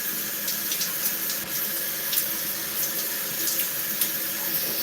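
Tap water runs steadily and close into a sink, a continuous hiss and splash with small gurgles, no talking.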